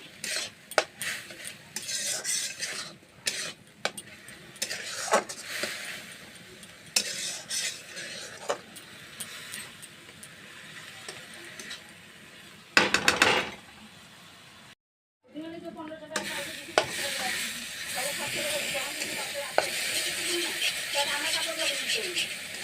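Mashed ridge gourd with a little sugar is stirred in a pan, the spoon scraping and tapping in an uneven rhythm, close up, with brief loud bursts, one short silent gap and a voice speaking over parts of it.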